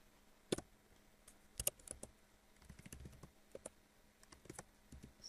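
Keystrokes on a computer keyboard as an npm install command is typed into a command prompt: irregular bursts of sharp clicks with short pauses, close and fairly quiet, no voices.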